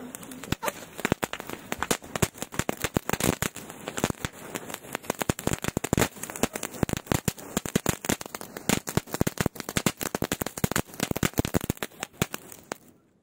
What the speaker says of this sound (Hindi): काफ़ी ज़्यादा तगड़ा ये पटाखा निकल रहा है